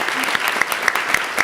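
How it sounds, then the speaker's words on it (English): Clapping from a room of attendees at a state Board of Education meeting honoring district teachers of the year, steady and moderately close, with no talk over it. "Let's give them a round of applause."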